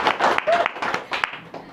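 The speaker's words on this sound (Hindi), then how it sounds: "तो इसके लिए जोरदार ताली चैंपियन के साथ।" Applause in a gathering for a young basketball gold medal champion, heard as several close bursts of hand clapping with uneven rhythm that rise and fade over a couple of seconds.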